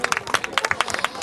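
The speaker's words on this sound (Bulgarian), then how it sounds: "Аплодисменти за Красимира Колданова" Applause at a Bulgarian VIP awards ceremony honoring Krasimira Koldanova: a brief burst of close, irregular clapping from an audience, crisp hand claps of uneven rhythm lasting about a second.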